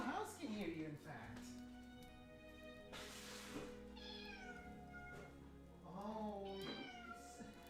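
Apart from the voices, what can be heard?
pet cat meowing for food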